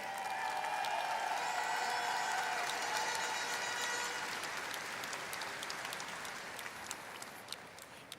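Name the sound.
audience applause at Miss Universe pageant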